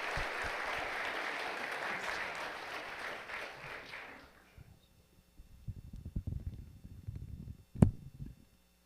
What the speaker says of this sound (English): let's give one more round of applause for these awesome individuals.